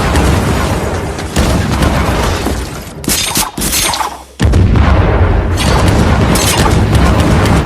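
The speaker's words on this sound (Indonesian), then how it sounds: "menghindari ledakan ranjau-ranjau itu" Heavy, loud landmine explosions boom and roar, with a sudden break into a sharp bursting blast midway before the rumbling surges back, dense and close.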